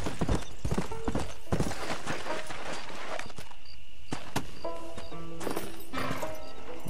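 A horse's hooves clip-clop across ground in the Red Dead Redemption 2 video game, loud and near, with game music and ambient effects layered underneath.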